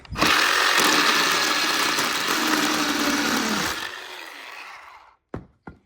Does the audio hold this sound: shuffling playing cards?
no